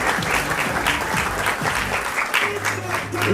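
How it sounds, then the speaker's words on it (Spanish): Strong audience applause at a cultural ambassadors election event in Villa Angela, with dense, continuous clapping and a low hum coming in near the end. "Fuerte los aplausos para Nayara y Nuria."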